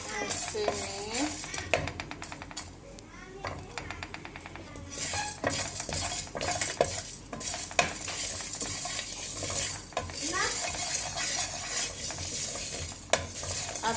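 Chicken korma masala roasts in a pan with steady stirring, a spoon scraping and clinking against the metal over a soft continuous sizzle, close and moderately loud with no talking.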